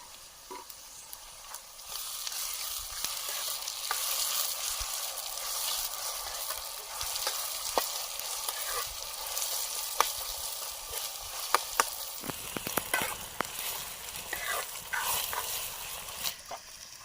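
Tomato drops into a hot pan with onion for a Konkan dry fish dish, breaking into a steady, close sizzle. Scattered stirring clicks follow toward the end.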